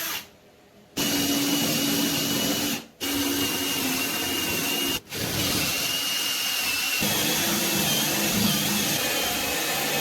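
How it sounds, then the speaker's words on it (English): A power drill drilling holes for a woodworking coffee table build whirs loudly and continuously nearby, its motor cutting out briefly twice before spinning up again. "I am so sick of drilling holes."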